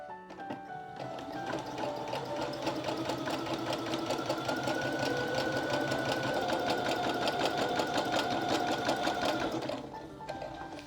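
A sewing machine runs a straight 5 mm stitch along a skirt seam with a steady, close mechanical whirr and rapid rhythmic needle chatter for about nine seconds, starting and stopping cleanly.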